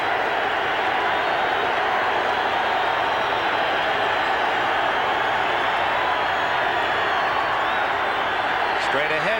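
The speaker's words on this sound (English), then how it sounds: "This crowd can get into the game, get noisy to the point where it's difficult to hear the signals." A noisy football stadium crowd in Denver roars as a steady, dense wash of cheering and clapping, loud and unbroken, while a commentator talks over it.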